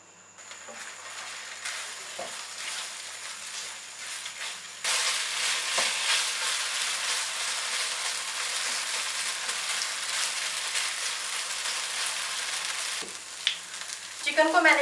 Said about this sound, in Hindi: अब ये चिकन जो हमने पहले सारे मसाले के साथ मिक्स की थी इसको पैन में डालेंगे